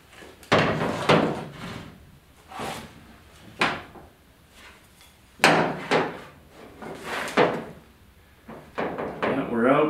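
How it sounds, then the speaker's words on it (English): Several sharp metallic hammer blows on a steel truck hood, spaced irregularly, close and loud, with quieter taps between and a bit of talking near the end. "we can hammer on it a little bit because that is so tight"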